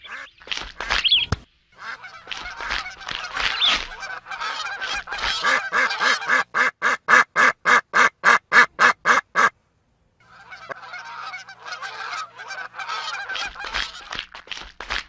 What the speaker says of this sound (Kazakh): Құстардың күш бірлесіп, бір бағытқа қарай оның үстіне тормен бірге ұшып бара жатқанына